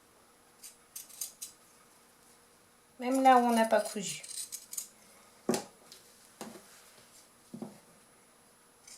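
Pinking shears snip around the edge of a sewn fabric Christmas decoration, a cluster of close crisp cutting crunches lasting about a second, set between short spoken phrases from a woman.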